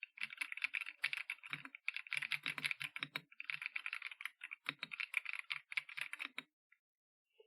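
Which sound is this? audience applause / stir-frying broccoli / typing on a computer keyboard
typing on a computer keyboard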